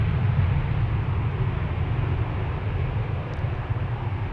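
Qatar Airways airliner departing Amsterdam Schiphol Airport toward Doha, a steady loud low jet roar that holds level throughout with no talking.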